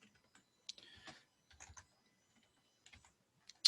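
A file name is typed on a computer keyboard as a few sparse, quiet clusters of key clicks with gaps between them, ending on one sharper tap.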